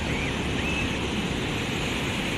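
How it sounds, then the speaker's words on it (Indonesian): Surf rolls in at Pantai Naga Permai beach in Nagan Raya as a steady, even wash of breaking waves, close and continuous, with no voices. "inilah Pantai Naga Permai ya. Pantai Naga Permai Kabupaten Nagan Raya."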